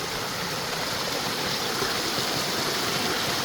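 A river tumbles over small mini waterfalls beside a mossy spot, producing a loud, steady rushing roar without pause and with no voices.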